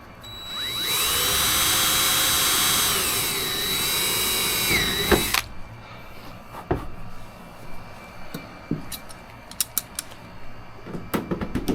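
Power drill boring through the wing spar line of a Zenith 750 Cruzer kit aircraft, a loud high whine held for about five seconds, followed by scattered clicks and taps of metal parts.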